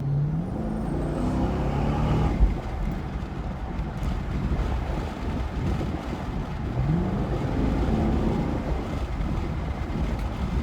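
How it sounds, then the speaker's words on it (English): A Chevrolet Camaro SS accelerates at light quarter throttle heading into a tunnel, a steady low engine drone with rising tone shifts, heard from inside the car with road and wind noise. "I just have throttled it. Maybe about a quarter throttle right there going into that tunnel."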